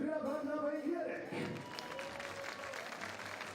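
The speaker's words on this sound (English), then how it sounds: "we'll give a huge round of applause and a welcome to Team Hungary, to team from Gyor" Crowd applause greets Team Hungary from Gyor at a FIBA 3x3 women's basketball event in Katowice, Poland, rising to a steady, moderately distant clapping that follows an announcer's voice over the arena speakers.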